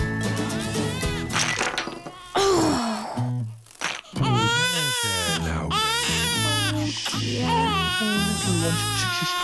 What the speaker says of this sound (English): She's only crying because she couldn't sleep when you were being noisy.